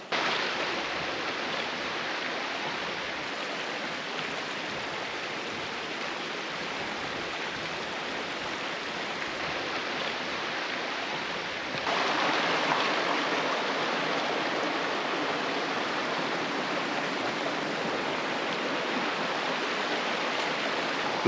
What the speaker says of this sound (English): it's just a little creek.